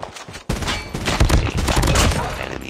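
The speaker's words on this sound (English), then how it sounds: "Be advised, hostile sentry gun spotted." A sentry gun in Call of Duty Mobile opens up with a dense, loud volley of rapid automatic fire after a brief lead-in, with crowded battle sounds layered around it.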